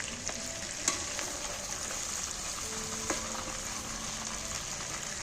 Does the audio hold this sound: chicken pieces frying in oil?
yes